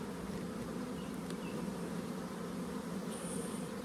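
Honey bees buzz around an open hive while nucs are made from frames of brood, a dense, continuous droning hum with no pauses and no voices.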